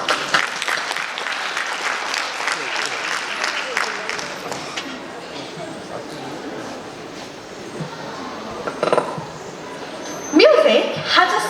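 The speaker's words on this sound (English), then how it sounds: "Please welcome Ayushi with a huge round of applause." An audience applauds at the 250th anniversary celebration of Cantonment Board Barrackpore, with sustained crowd clapping that thins out midway, then a brief renewed burst near the end, and voices mixed in.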